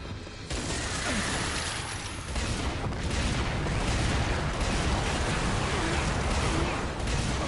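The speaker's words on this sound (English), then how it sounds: "Let's reload, and then we're gonna turn around and shoot." Sustained heavy gunfire and explosions in Earth Defense Force 5, a dense, continuous roar of shots and blasts that starts abruptly after a brief quiet moment and keeps up loud throughout.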